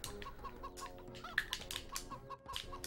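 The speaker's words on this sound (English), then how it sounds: "Will we ever get past the chickens?" Chickens in the video game Shrek Extra Large cluck in a string of sharp, repeated clucks over steady game background sounds.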